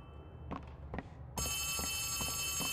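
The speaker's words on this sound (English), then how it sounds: "I might be literally shaking, but it's just a phone." A telephone in the horror game Poppy Playtime Chapter 3 starts ringing with a bright, sustained electronic trill after a few dull thumps like footsteps, fairly close and alone.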